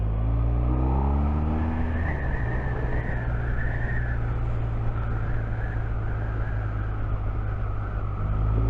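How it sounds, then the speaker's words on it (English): A BMW R1250R motorcycle engine idles with a deep, steady rumble while the throttle is blipped slightly. The revs rise and fall in gentle swells, close by and continuous, with no voices. "just turning the throttle slightly, just getting that little bit of brap going on"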